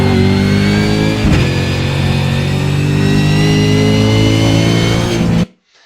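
Race car engine at Bathurst accelerating hard with a brief dip near one second as it upshifts, a loud, steady, close high-revving drone that cuts off abruptly near the end.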